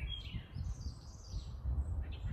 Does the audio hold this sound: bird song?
yes